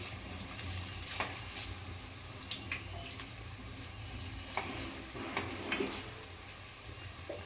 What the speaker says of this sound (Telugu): ఈ పునుగులు గోల్డెన్ కలర్లోకి వచ్చేంత వరకు నూనెలో బాగా కుకింగ్ చేయాలండి.